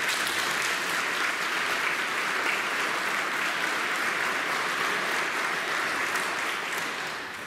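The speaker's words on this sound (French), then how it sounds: "On peut applaudir toutes ces personnes." Sustained applause from a congregation at an Easter Vigil Mass, thanking readers and the choir; dense, steady clapping fills the whole stretch, easing slightly at the very end.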